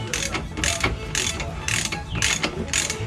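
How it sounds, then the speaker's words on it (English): A socket ratchet wrench clicks in quick bursts while loosening a front suspension bolt on a 2000 Chevy Impala, about six close, loud rasping strokes in an even rhythm. "We'll try the old socket first before going the quick wrap."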